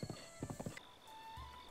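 A horse in the video game Zelda: Breath of the Wild clip-clops with a quick run of hoofbeats, then gives a short whinny, all fairly quiet.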